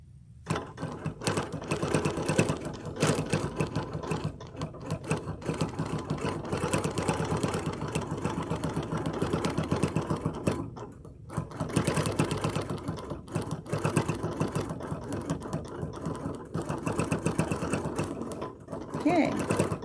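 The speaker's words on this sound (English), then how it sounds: "I'm going to sew down here and then trim." A sewing machine stitches fabric in a long steady whirring run near the mic, pausing briefly partway through before the motor resumes.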